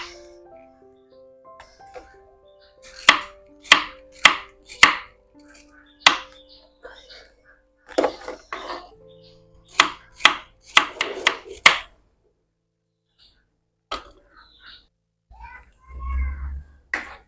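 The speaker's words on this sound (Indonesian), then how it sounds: "Kemudian belimbing wuluhnya juga Bunda potong-potong seperti ini ya" A knife chopping bilimbi fruit on a board in a home kitchen, a series of sharp, close cuts in quick clusters with pauses between them, accompanied by someone speaking.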